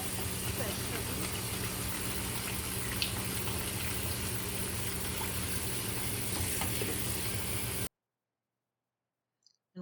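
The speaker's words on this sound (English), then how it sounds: "once he's done washing the vegetables he will pour the water out" Water runs steadily while vegetables are washed for Jamaican chicken foot soup, a continuous close rushing hiss that stops abruptly near the end, leaving near silence.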